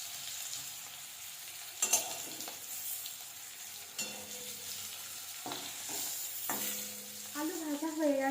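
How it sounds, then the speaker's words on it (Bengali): Steady oil sizzle of potatoes frying, with occasional stirring scrapes and clinks from a spatula in the pan, close by and moderately loud throughout. "আলুগুলো ভালো করে ভেজে নেব"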